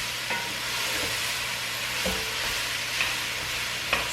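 A spoon stirs and scrapes browned bits from the bottom of a pot of braising chicken, with a steady sizzle beneath occasional soft scraping strokes, close and moderately quiet.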